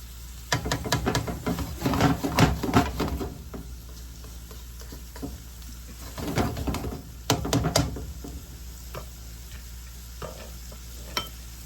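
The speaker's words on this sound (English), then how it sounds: "I added a little oil. So now they just go ahead and cook like they're supposed to." Food frying in a little oil in a pan while a birthday dinner is cooked: loud crackling sizzle with stirring and clattering in two busy bursts, then quieter scattered pops, close by and without speech.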